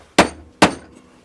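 Two sharp, hard knocks about half a second apart, a mallet tapping a wooden framework dovetail joint, each ringing out briefly.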